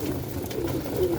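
Young roller pigeons cooing in a loft, soft low repeated coos close by over a steady background murmur.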